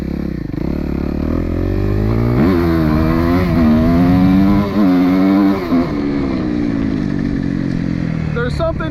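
A Suzuki RMZ250 dirt bike engine revving close and loud, its pitch climbing and falling in repeated surges through high RPM with a steady continuous drone.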